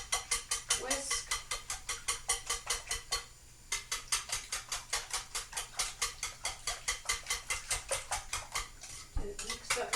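Rapid rhythmic clicking of a whisk beating eggs against a bowl, steady repeated strokes with one short pause, close and fairly quiet, no talking.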